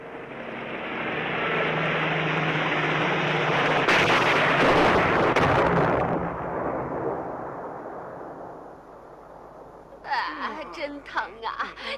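Engine roar of a small flying craft coming down in a bumpy automatic landing on a desolate world, loud and sustained with a heavy rumbling burst midway, fading before voices talk at the end.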